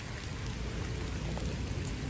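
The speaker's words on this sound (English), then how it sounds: "it is actually raining here by me right now as we speak." Steady rain falls outdoors on a cold evening, a soft continuous hiss of drops on surfaces heard alone at low level.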